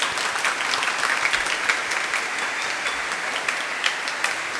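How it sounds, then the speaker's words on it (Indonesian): Congregation at a Catholic school-year opening Mass in Indonesia applauds the schools, a steady, even crowd clapping that fills the room for several seconds without speech. "Tepuk tangan untuk sekolah-sekolahnya."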